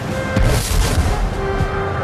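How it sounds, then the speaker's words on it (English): A barrage of Napoleon's heavy cannon at Waterloo firing on Wellington's center, rendered as loud, dense rumbling booms that overlap in a continuous roar. "Shortly after midday, Napoleon ordered a barrage of his most powerful cannon."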